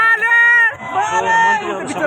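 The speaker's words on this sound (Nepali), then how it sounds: "यो हुटिङ देख्न सक्नुहुन्छ दर्शक" A crowd hoots and shouts at a political event outside the president's residence in Nepal, with loud, overlapping raised voices and cries close by that dip briefly before swelling again.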